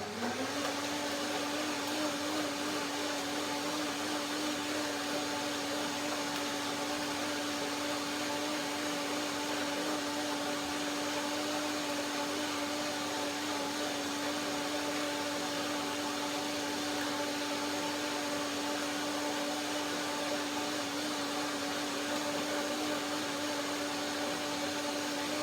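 A blender runs steadily for the full stretch, mixing a sesame seed dressing, its motor a loud continuous whine with a constant pitch and no breaks.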